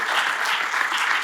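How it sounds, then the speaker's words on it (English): Brief burst of steady audience clapping closing a policy panel session on universal health coverage, dense and even throughout. "Let's give them one more round of applause."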